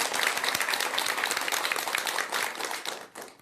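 An audience at a Buddhist dharma talk breaks into warm applause, a dense patter of many hands clapping together that holds strong and then gradually thins and fades.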